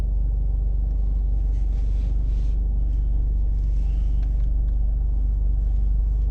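A Scion tC fitted with a Borla S-Type muffler drives along, its exhaust a deep, steady, loud rumble heard from inside the car, continuous throughout with no voices.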